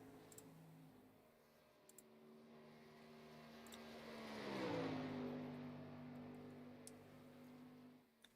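Racing video game stock car engine droning on track, a faint steady whine that rises and swells as the car passes close, then settles back to a level hum.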